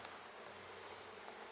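Honey bees buzz steadily inside a beehive, a dense, continuous drone close by with a slightly pulsing loudness and no talk.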